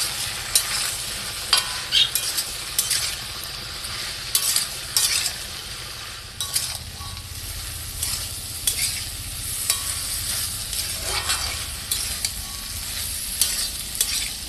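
Pumpkin pieces with turmeric and green chili fry in a pan, a continuous oily sizzle broken by regular scraping and clinking strokes of a spatula stirring and mixing, close and steady with no talking.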